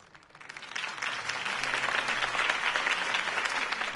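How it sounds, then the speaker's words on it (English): Crowd applause swells after a campaign speech for Harvey Dent, starting softer and building into sustained, dense clapping from a large audience that continues to the end. "If only Mr. Wayne, my campaign's largest backer, could have heard that applause"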